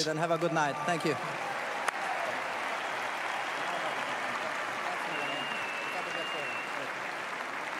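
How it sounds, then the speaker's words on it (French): Loud, sustained applause from a large crowd for the world number one tennis player, steady clapping filling the whole stretch, with a voice briefly audible at the start. "un fort applaudissement pour le numéro 1 mondial, Jannik Sinner"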